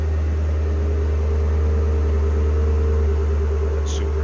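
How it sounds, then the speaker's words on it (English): A supercharged engine in a 2006 Cadillac XLR-V idles steadily and loudly up close, a constant low drone with a strong hum and no revving. "So you can hear it run, hear it start and everything."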